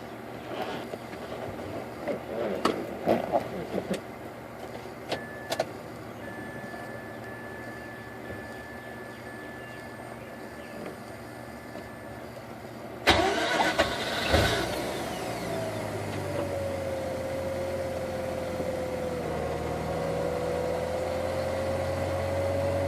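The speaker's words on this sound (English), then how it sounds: "going to start the car now" A 2004 Mazda RX-8 rotary engine being started after fuel pump work: quiet clicks and handling noises, then a sudden crank that catches into a steady idle, which settles and slowly drops in pitch, heard close up without talk.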